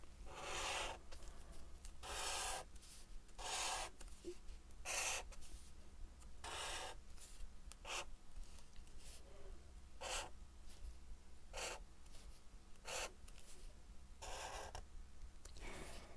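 Marker pen writing Korean POP lettering on paper, a series of distinct rubbing, squeaky strokes in short bursts with pauses between, close and clear with no talking.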